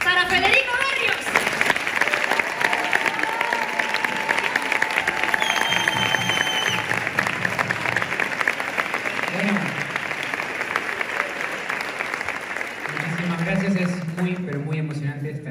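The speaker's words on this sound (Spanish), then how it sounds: "Pido fuerte aplauso para Federico Barrios." Theatre audience applauding at the touring premiere of the musical El tiempo entre costuras in Zaragoza, a sustained loud wash of clapping from a large crowd, with a few voices rising over it near the end.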